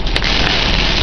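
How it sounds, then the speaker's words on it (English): Heavy rain pounding a parked car during a tornado, a loud, dense, continuous hiss of drops and debris striking the body with no break. "You hear the rain now?"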